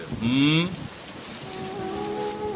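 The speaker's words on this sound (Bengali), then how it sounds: "এই ঝড় বৃষ্টির মধ্যে প্রশান্ত কেন মাছ ধরতে এসেছে?" Rain from a storm in a Bengali animated story about a fisherman, heard as a steady, even hiss throughout, with a few brief tonal voice-like sounds over it.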